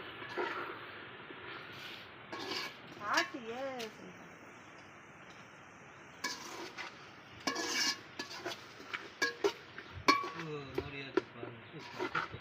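A ladle scrapes and clinks around a metal pot of salted dried-meat curry, with irregular stirring knocks and rubs close by while a person talks over it.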